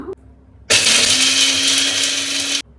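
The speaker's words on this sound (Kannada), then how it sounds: "ಬನ್ನಿ ಇವಾಗ ರುಬ್ಕೊಳ್ಳೋಣ" A mixer grinder grinds roasted dried red chillies, including Byadgi chillies, for tomato rasam, a steady loud whirring drone starting abruptly and running about two seconds before cutting off.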